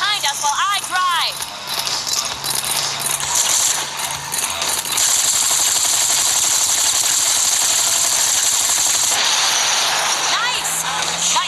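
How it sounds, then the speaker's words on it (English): Rapid, sustained gunfire rattles from a moving car in the mobile game Gangstar Vegas, a dense continuous clatter over engine and game sounds, with a short voice line at the start. "this is the part where you take this gun and shoot at the assholes behind us while I drive"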